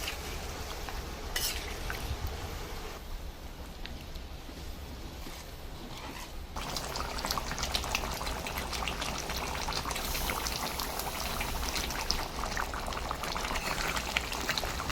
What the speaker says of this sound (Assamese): মাংসখিনি ভজা হোৱাৰ পিছত অকণমান পানী দি কিনে উতলালোঁ